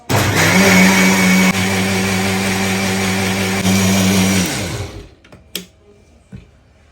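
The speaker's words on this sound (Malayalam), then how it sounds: "മിക്സി അടച്ച് വെച്ചിട്ട് നമുക്കിത് അടിച്ചാട്ടോ" A kitchen mixer grinder whips cream in its closed jar, a loud, steady motor whine that runs for about five seconds, then winds down and stops, followed by a few faint clatters.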